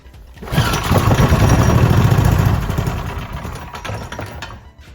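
A small carburetted engine, with a clean rag held over the carb, catches and roars into a loud, steady run for a couple of seconds, then eases to a quieter, rougher idle. No one speaks.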